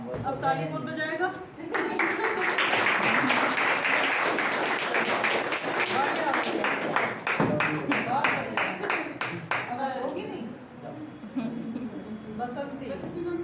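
A crowd claps at an event in Dehradun, a sustained round of applause lasting several seconds that then thins to scattered claps, with voices speaking before and after it.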